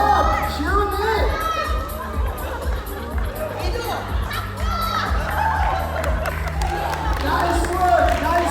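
A crowd of children and adults at a sports training session in Bangkok, Thailand cheers and claps as a child finishes a 40-yard sprint, a busy, lively mix of shouts, chatter and handclaps under close talking.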